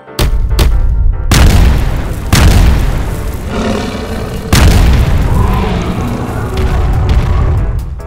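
A cartoon tank fires its cannon. Several loud, heavy booms follow one another, each trailing into a rumbling roar.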